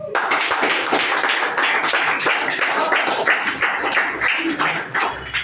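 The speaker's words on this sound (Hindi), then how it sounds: "ताली भी बजाओगे।" An audience at a Hindi-language sales seminar claps in a lively burst of overlapping hand claps, loud and sustained for several seconds, with some voices mixed in.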